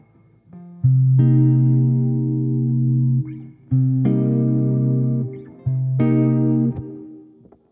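An electric guitar with effects plays a stacked chord shape rooted on the 6th string, three sustained chords in a row, each struck and left ringing before cutting off, loud and clear with no voice.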